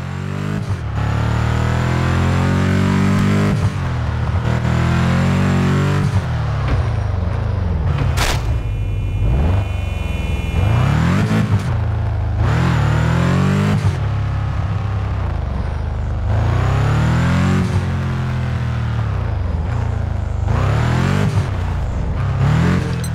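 Subaru car engine in a driving video game, loud steady engine drone with repeated revving rises and gear-shift drops, continuous throughout.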